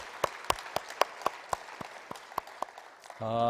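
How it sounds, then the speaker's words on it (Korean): A church congregation claps for their pastor at a Wednesday evening service, about a dozen separate claps ringing out in a steady rhythm before a short musical tone cuts in at the end. "박수 한번 하시지요"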